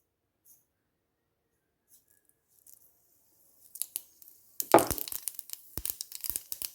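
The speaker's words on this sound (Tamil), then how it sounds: "இப்போ எண்ணெய் சூடாகிட்டது நான் கொஞ்சம் கடுகு போடுறேன்" Mustard seeds dropped into hot oil while tempering for a Sri Lankan-style long bean and potato stir-fry, near-silent at first, then a sudden burst of dense crackling and popping that keeps spluttering to the end.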